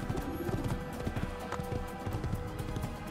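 Horse hooves clip-clop in a steady, brisk rhythm in the video game Assassin's Creed, fairly quiet, over a bed of game ambience.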